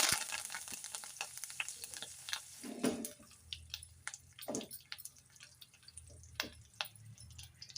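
Asafoetida and curry leaves dropped into hot tempering oil, giving faint crackles and scattered sharp pops over a soft sizzle, close and quiet, with no talking.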